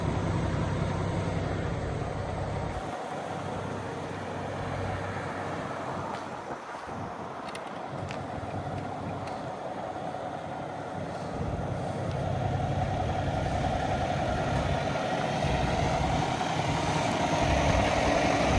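A 2022 Freightliner Cascadia semi truck idles with a steady, continuous diesel rumble, joined by wind buffeting the microphone for about eighteen seconds, with no voices.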